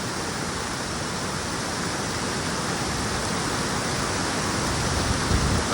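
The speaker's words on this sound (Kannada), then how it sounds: "ಇಲ್ಲೇ ಒಂಥರ ಫಾಲ್ಸ್ ಥರ ನಮಗೆ ಕ್ರಿಯೇಟ್ ಆಗ್ತದೆ ನೋಡಿ" Water pours over a forest walking path near Hidlumane Falls like a small cascade, giving a loud, constant, close rushing wash with no break.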